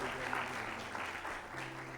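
Congregation applauding during a church service, a steady dense wash of clapping that fills the whole moment, with some voices mixed in underneath.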